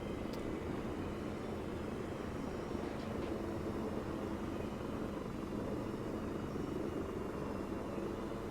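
Aircraft flying in Arma 3, heard as a steady, continuous rotor and engine drone that holds evenly throughout without pauses, with no talking over it.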